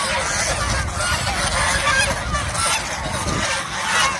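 Farm geese honk and squawk noisily while being caught and loaded into a car, their calls mixed with nearby voices and handling commotion.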